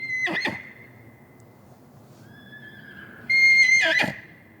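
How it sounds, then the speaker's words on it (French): A young wild foal in a forest nature reserve in the Monts d'Azur whinnies loudly to its herd, with two shrill nearby calls at the start and end and a thin, lingering tone in between. "le jeune poulain va lancer un appel."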